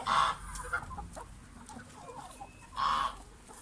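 Chickens cluck nearby in a barn in autumn, in short, soft bursts, with two louder squawky clucks at the start and near the end.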